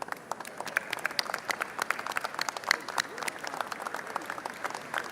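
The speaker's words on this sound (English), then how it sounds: "welcoming these Texans to their house with a round of applause" Applause fills the Texas House chamber during a resolution honoring NAIFA-Texas, a steady patter of many hands clapping at a moderate distance for several seconds.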